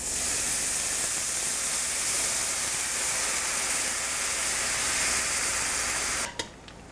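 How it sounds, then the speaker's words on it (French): Water added to a hot pan of onions to deglaze them, giving a strong steady hiss and sizzle that runs on and then drops off abruptly near the end. "Dans la poêle, je vais ajouter un peu d'eau pour déglacer les oignons."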